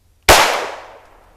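A single sharp pistol shot from a Ruger Mark IV or Browning Buck Mark fired at a target 50 yards away, loud and close, with a quick decaying tail.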